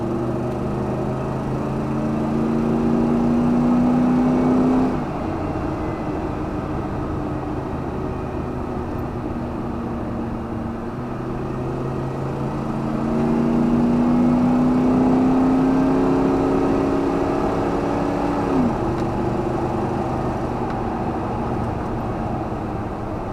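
A truck engine held in a lower gear surges and eases in two long, droning swells, revving up and settling back while the vehicle rolls along, steady and fairly close with no speech over it.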